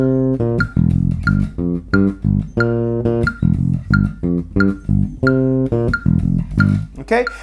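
A classic disco bass guitar riff is played at a slow 90 beats per minute, with clean plucked notes in a steady, syncopated pattern, loud and close with no voice over it.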